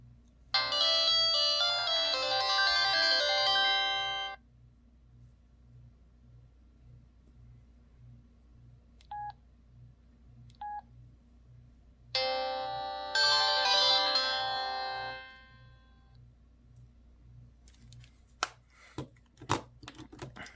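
A Samsung X427M mobile phone runs through its start-up and shut-down tones: a bright melodic chime jingle, two short beeps, then another tonal jingle. A steady, faint pulsing hum and a few clicks run underneath.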